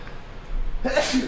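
A single sharp human sneeze bursts out loudly and up close after a second of quiet room tone, during a live talk show.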